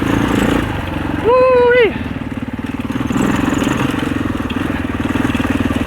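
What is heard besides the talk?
650 four-stroke dirt bike engine riding over rocks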